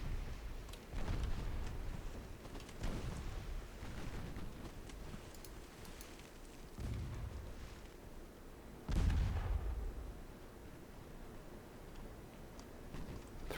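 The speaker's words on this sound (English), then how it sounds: "7-inch guns are firing." Heavy 7-inch naval guns fire in a dreadnought-era naval battle game, making several deep booming blasts spaced seconds apart, with the loudest near the end and a low rumbling ambience between shots.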